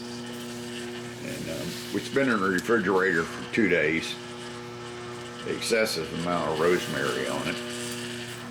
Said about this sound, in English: So that noise you hear in the background is my rotisserie motor.